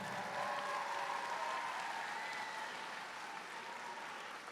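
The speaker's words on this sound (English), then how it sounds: "Let's give the judges a huge round of applause." A crowd at a state robotics championship applauds the judges, steady dense clapping with some cheering, moderately distant and continuing evenly throughout.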